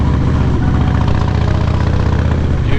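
Several motorcycles idle close by on a street stop in St Helens, Tasmania, their engines giving a loud, steady low rumble with a dense pulsing beat and no talking.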